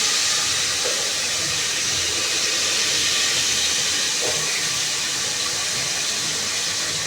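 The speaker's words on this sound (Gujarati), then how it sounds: "બટેકા નાખે છે, બધા બટેકા હવે નાખી દીધા એમાં." Potatoes tipped into hot oil for a cumin tempering in a village kitchen, giving a steady, loud broadband sizzle and hiss that runs without a break from start to finish, with no talking.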